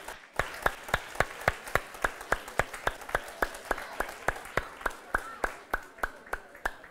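A church congregation claps in thanks to the mothers at a Mother's Day service, about twenty sharp, evenly spaced claps in a steady unified rhythm, close and clear with a faint room murmur between them.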